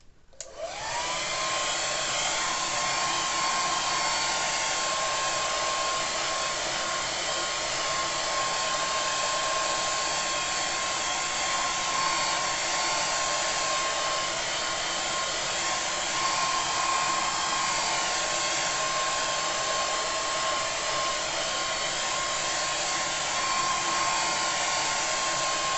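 Hair dryer blowing on a watercolour painting of flowers, a loud steady roar with a high whine that starts abruptly and holds unbroken for about 25 seconds, close by and alone.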